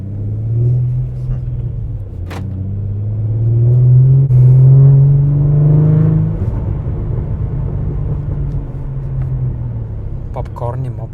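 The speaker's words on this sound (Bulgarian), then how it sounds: "Гледай какъв трафик, човек!" A Dodge Challenger 5.7 widebody rumbles through city traffic, its engine revving up to a loud, rising drone mid-clip before settling back into a steady low idle-like rumble.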